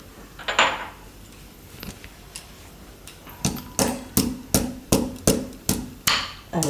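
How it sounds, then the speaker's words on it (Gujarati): Cashews and almonds are crushed in a home kitchen while making a winter kheer: a run of about eight sharp, evenly spaced knocks that starts after a quiet opening, close and fairly loud, with no talking. "અને આ કાજુ ને બદામ એને આપણે થોડો ભૂકો કરી નાખીશું આમાં."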